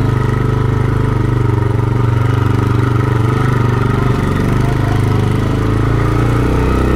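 A motorbike engine labours up a steep slope, holding a steady, loud, low drone close by for several seconds with no talking.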